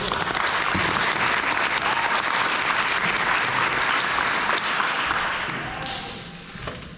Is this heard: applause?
yes